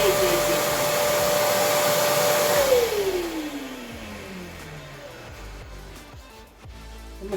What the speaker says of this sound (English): I'm going to reach down here and turn on one of my shop vacs I currently use.